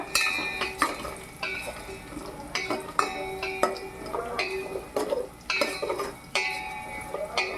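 Cashews frying in hot ghee in a pan while a spoon stirs them, with repeated scraping clinks of metal on the pan over a steady sizzle, close and moderately loud.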